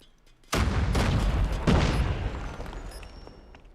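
A sudden loud grenade blast in Call of Duty Mobile, followed by a long rumbling tail and scattered gunshots fading over a few seconds.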